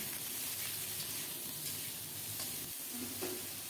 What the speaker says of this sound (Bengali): ঢাকা না দিয়ে নেড়ে চেড়ে খুব সুন্দর মতো একটু দাগ লাগিয়ে বেগুনটাকে ভেজে নেব।